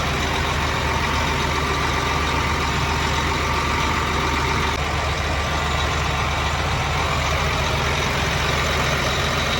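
Tractor engine running on a farm field during night planting, a loud, steady low diesel rumble that continues unbroken with no voices.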